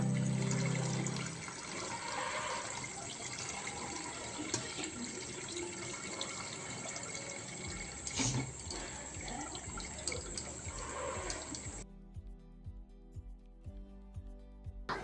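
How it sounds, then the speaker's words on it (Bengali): Cold tap water runs steadily over chow mein noodles being rinsed, a continuous close splashing rush with faint clinks that stops near the end, leaving quieter handling noises. "এবার ঠান্ডা জলে ধুয়ে নেব"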